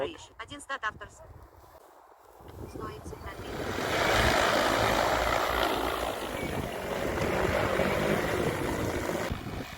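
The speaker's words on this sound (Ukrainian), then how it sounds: "Дрон автоматично пішов виконувати завдання." An XAG P100 Pro agricultural spraying drone spins up over a farm field, its rotors building into a loud, steady whirring roar that holds for several seconds after some brief clicks and handling noise.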